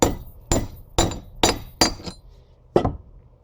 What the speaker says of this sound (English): hammering them down will not hurt nothing